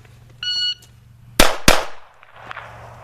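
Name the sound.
pistol shots fired after drawing from shoulder holster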